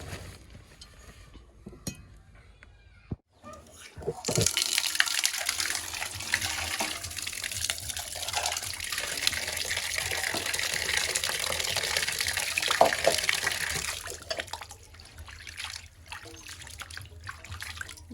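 Tap water gushes steadily into a sink as vegetables are rinsed for a village-style home cooking of country chicken, starting after a few quiet seconds and running continuously to the end, close and fairly loud with no talking.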